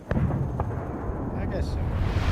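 Micro-nuclear bomb explosions in a video game: a deep, continuous booming rumble with a couple of sharp thuds early on, loud and sustained through the whole stretch.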